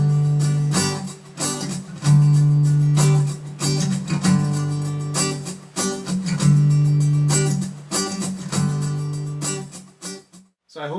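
Acoustic guitar strummed in a repeating 14-beat pattern with muted strokes, steady chord strums punctuated by short percussive chucks, close and clear, with no talking.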